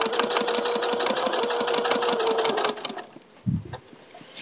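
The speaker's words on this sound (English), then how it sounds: "when I sew, I usually try to just full speed" A sewing machine stitching quilt fabric in a quilt shop runs at a fast, rapid even chatter for a few seconds, then stops, leaving a brief thump and quiet background.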